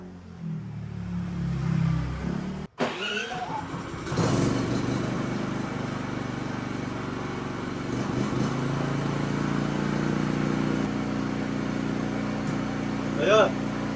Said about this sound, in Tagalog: Kapag tinanggal naman natin yung saksak dito sa extension, signifies na wala ng kuryente, so mawawala ng ilaw, dapat mag-kick in na yung ating generator.